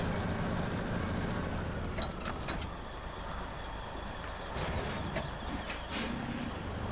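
A heavy truck in a video game hauls a load, its engine rumbling steadily while several sharp air-brake hisses burst out at intervals, fairly quiet overall.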